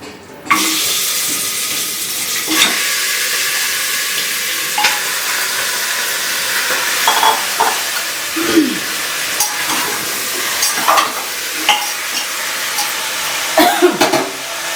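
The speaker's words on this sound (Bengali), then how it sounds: "সর্ষের তেল প্রেশার কুকারে একটু গরম হয়ে গেলে দিয়ে দেবো এই যে কাঁচা মাটনটা" Raw mutton hits hot mustard oil in a pressure cooker, setting off a steady, loud broadband sizzle that runs unbroken for the whole stretch, punctuated by occasional scrapes and soft knocks.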